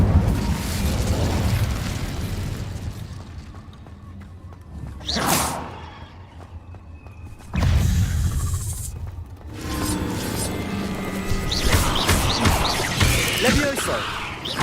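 Incendio fire spell effects in the Hogwarts Legacy video game: loud, sustained roaring bursts with whooshing flares and booms, in several surges separated by brief dips, close and dense.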